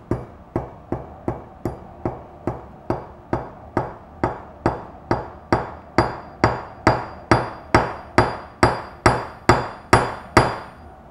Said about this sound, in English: I'm gonna put it on top of this piece of steel and see if I can actually hammer it out.